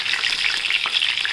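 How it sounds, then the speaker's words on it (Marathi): Brinjal pieces fry in hot oil, a dense close crackling sizzle that holds steady throughout. "सगळ्या साईडने आपण तळून घ्यायचे, म्हणजे सोनेरी रंग येईपर्यंत"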